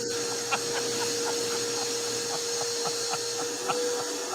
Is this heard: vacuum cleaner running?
yes